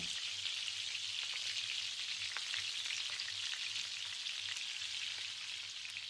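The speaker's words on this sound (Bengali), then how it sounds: "এখন সব কিছু একসাথে আরও কিছুক্ষণ এভাবে নাড়াচাড়া করে ভেজে নিতে হবে" Steady sizzling of vegetables frying in a pan, with faint scraping as they are stirred, continuous and close, no voices.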